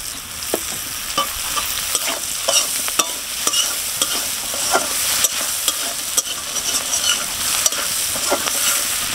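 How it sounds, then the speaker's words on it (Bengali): Prawns fry in oil in a wok with a constant, close sizzle, broken by frequent sharp spatula clicks and scrapes as they are stirred. "আবার একটু তেল দিয়ে ভেজে নেব।"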